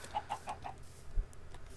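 Minecraft chickens clucking in a game world, a few short, evenly spaced clucks near the start followed by a soft low thump, fairly quiet with no talk over them.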